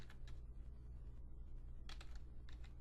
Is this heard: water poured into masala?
no